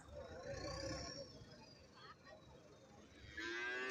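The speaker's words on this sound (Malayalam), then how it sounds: "ഇത് പശു മൂരി ഇതെല്ലാം വാങ്ങി ഇതാ ഈ വണ്ടിയിൽ കെട്ടിയിരിക്കുകയാണ്" A cow lets out a drawn-out low moo amid outdoor crowd murmur at a cattle market, followed by a passing vehicle's rising whine and engine noise.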